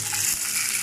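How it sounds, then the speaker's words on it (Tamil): Curry leaves and whole shallots hit hot oil in a pan and crackle with a close, bright sizzle, heard alone in one short burst. "இப்போ கருவேப்பிலை சேர்த்துக்கோங்க. சின்ன வெங்காயம் சேர்த்துக்கோங்க."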